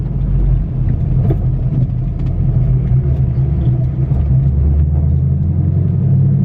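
A fifth-generation Camaro engine fitted with headers rumbles steadily at close range, a deep, loud, continuous low drone with slight fluctuations and no clear revving throughout.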